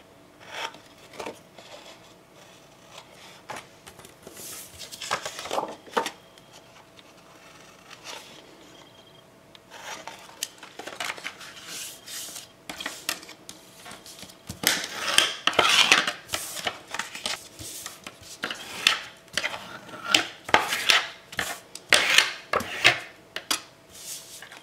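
Scissors snip and rustle through paper corners while pieces for a baby girl's scrapbook album are trimmed, coming as irregular bursts of close, crisp cutting and paper handling with quiet pauses between them.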